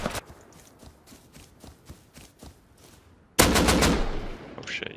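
AK rifle fire in the survival game Rust: a rapid, evenly spaced stream of sharp shots, followed by a much louder, closer burst that fills the last second and a half.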